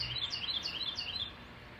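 Birds chirp and tweet outdoors in a quiet neighborhood, several quick bright calls overlapping near the listener over a faint steady background hum, with no talking.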